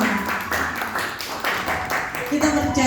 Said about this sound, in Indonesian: Tepuk tangan untuk kemuliaan nama Tuhan